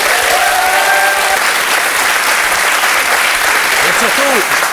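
Studio audience at a French television talk show breaks into dense, loud applause that holds steady throughout, with a few faint voices and whistles audible over the clapping.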